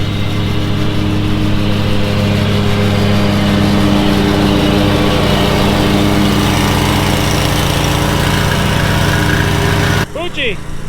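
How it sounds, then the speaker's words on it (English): A lawn mower runs steadily and close by, a constant engine drone that cuts off abruptly near the end, leaving quieter background sound. "We got a little Maggie in training, mowing the lawn"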